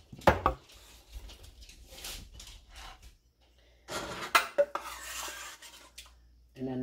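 A ladle scoops spaghetti sauce from a pot, making clattering metal scrapes and knocks in two bursts separated by a quieter pause, close and fairly clear.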